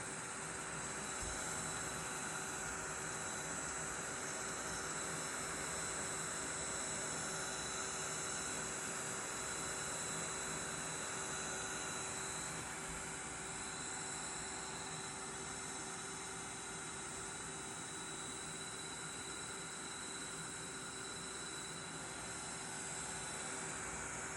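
A small heat craft tool blows a steady, even rush of hot air with a constant mechanical whine, running unbroken throughout at its single speed, close and moderately loud.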